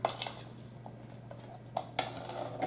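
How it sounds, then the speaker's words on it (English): A utensil scrapes and clinks against a pan while vegetables are stirred together with taco seasoning. The sound is quiet and close, with scattered metallic taps over a low steady hum. "Stir the vegetables with the taco seasoning until combined."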